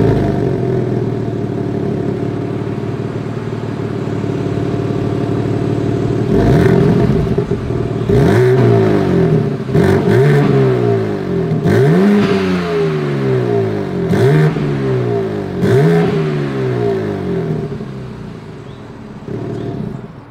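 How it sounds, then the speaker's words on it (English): A 2021 BMW M3 engine idles with a deep exhaust burble, then revs sharply several times in quick bursts, each rise followed by a falling growl, loud and close. "As always, here is that exhaust clip."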